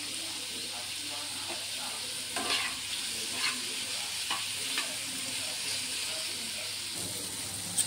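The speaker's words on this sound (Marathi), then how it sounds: "थोडंसं गॅस फास्ट करूनच परतवून घ्यायचं" Chopped ridge gourd stir-fried over a high gas flame, giving a steady sizzle and hiss with occasional scraping stirs throughout, close and fairly loud.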